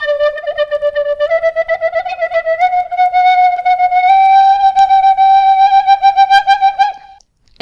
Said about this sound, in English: On extended notes, for a very weird, underwater, strange, alien sounding effect, you can actually shake or wobble your whistle.